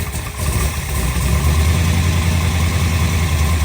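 A 454 Chevy big-block V8 in a Cobra idles close by with a deep, steady rumble and fine vibration, settling into an even loud drone after a brief dip at the start.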